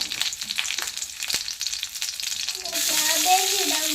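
Curry leaves and chillies dropped into hot oil for a cabbage dish, scattered clinks and rustles giving way to a sudden, steady bright sizzle close by over the last second or so.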